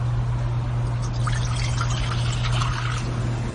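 Water pours continuously into a vessel during a Unitarian Universalist church ceremony, a close, steady splashing trickle over a low constant hum that drops off as the pour ends.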